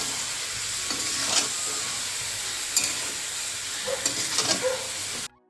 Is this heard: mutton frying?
yes